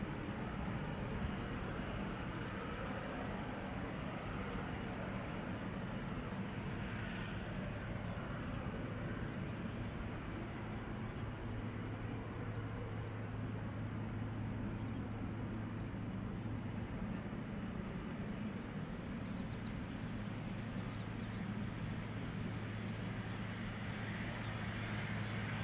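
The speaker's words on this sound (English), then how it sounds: "Listen how the engine noise gets louder as it turns towards us." An airplane engine at Schiphol Airport drones steadily for a long stretch as the plane turns toward the listener, a continuous rumbling roar that stays fairly even in loudness throughout.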